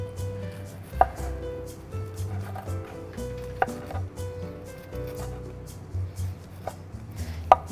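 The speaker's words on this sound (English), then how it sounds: "I'm just going to trim off the leaves of this parsley just by keeping the bunch" Knife chopping through a gathered bunch of parsley on a wooden board, a few sharp cuts standing out over low steady background rumble, close and fairly quiet, no talking.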